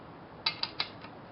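A ratchet wrench tightens a sprocket bolt on a Honda Shadow Spirit 750 motorcycle with three or four quick, crisp clicks close by, under no talk.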